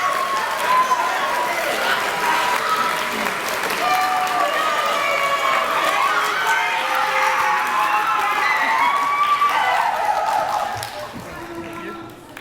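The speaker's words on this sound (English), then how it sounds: "A round of applause for these outstanding 8th grade musicians." An audience at a middle school awards program claps and cheers for eighth grade musicians, a dense sustained applause with mingled voices that tapers off near the end.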